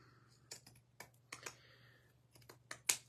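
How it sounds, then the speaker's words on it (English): Pinking shears cut through craft material for a fall pumpkin hanger, a series of sharp close snips and clicks spaced irregularly over a few seconds, quiet and without talk. "we are going to cut this with pinking shears"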